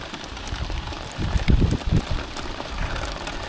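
Steady rain from a thunderstorm patters all around in a broad hiss, with a low rumble swelling briefly in the middle; nobody speaks.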